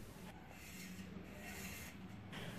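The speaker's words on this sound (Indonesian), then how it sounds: "Untuk cara menumpulkan bagian tajamnya, sama seperti video sebelumnya, yaitu dengan menggunakan mata gergaji besi." A hacksaw blade scrapes along the sharp cut edges of a metal frame to blunt them, producing steady rasping strokes in a rhythmic back-and-forth pattern at close range.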